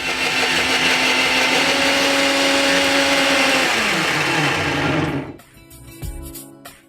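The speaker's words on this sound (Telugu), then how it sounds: "దీన్ని మనం ఇప్పుడు మిక్సీ పట్టేసుకుందాం." An electric mixer grinder blends a gravy paste for a paneer methi dish: a loud, steady high whine for about five seconds, then the motor winds down and stops, followed by faint clinks.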